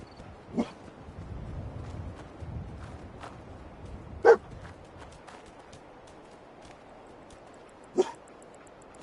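A dog in the video game Fallout 4 gives three sharp, isolated barks spaced several seconds apart over quiet ambient background noise.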